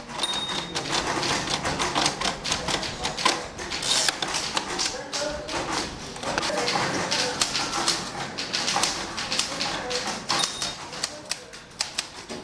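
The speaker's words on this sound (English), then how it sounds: "they learn how to type on an English typewriter" Someone types on an English typewriter, producing rapid, continuous close-up clacking keystrokes in an irregular rhythm over faint background noise.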